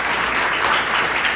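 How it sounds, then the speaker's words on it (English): A crowd at an intactivism gathering applauds loudly and densely, a continuous close wash of clapping that holds steady throughout the short burst. "round of applause for his parents, Cecil and Sierra"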